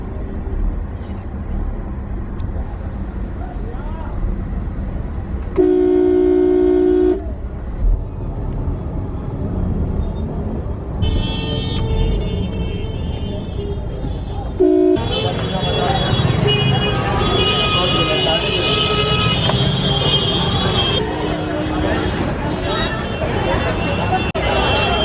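Busy New Delhi street noise with a steady traffic rumble, crowd chatter and bursts of car horns, heard over talking.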